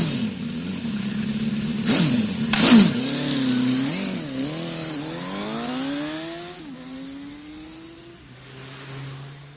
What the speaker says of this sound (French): Je suis en moto, ça ne vous fait rien?